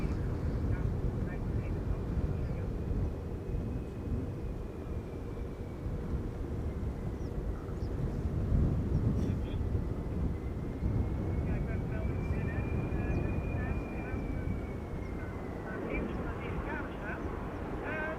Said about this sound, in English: PLF 106 arriving from Warsaw. 7-year-old airplane, first flight July 2017